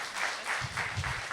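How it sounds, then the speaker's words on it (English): Brief audience applause at a charity event: a crowd claps together in a short, even burst of scattered hand claps, moderately distant and fairly quiet. "Everybody give a round of applause, a warm round of applause for everybody that is here today"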